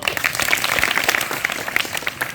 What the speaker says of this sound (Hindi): थोड़ी तालियां जरूर करें, ठीक है? बजाइए तालियां